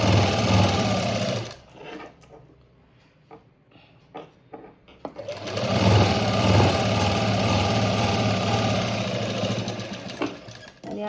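A sewing machine runs in bursts while stitching a blouse made from a saree border, a fast mechanical whir that stops for a few seconds of near quiet with faint clicks and then resumes steadily, with a voice speaking softly alongside.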